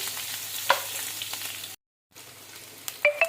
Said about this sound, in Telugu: ఇప్పుడు ఈ పచ్చిమిరపకాయలు వేసేసి కొంచెం ఫ్రై చేయాలి